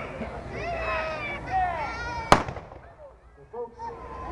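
A single sharp gunshot sound effect cracks out in a radio comedy sketch, loud and abrupt, surrounded by lively talk and animated voices before and after.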